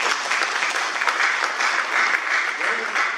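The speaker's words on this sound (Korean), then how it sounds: "박수 좀 쳐주세요" Audience at an Ansan mayoral candidate debate gives loud, continuous applause, a dense crowd patter with no breaks from start to finish.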